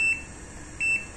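A multimeter's continuity buzzer sounds while testing a Schneider LC1D09 contactor: two short, clear high-pitched beeps, the second slightly longer, close by with no talking.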